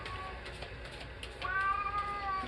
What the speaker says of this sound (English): But then I let him in, and then he meows in here.